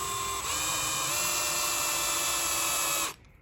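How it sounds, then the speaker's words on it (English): A power drill runs steadily into a handmade Murray cod surface lure held in a vise, a loud continuous high whine lasting about three seconds before cutting off abruptly. "you just want to start drilling"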